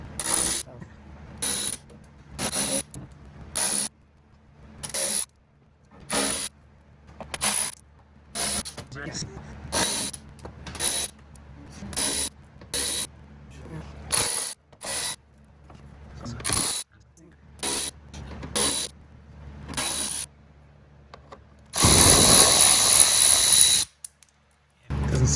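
Ratchet wrench backing out small 8mm screws from the underbody panels of a BMW M2 with an N55 engine, heard as repeated rapid clicking bursts with short pauses, close by, ending with a louder broadband rush.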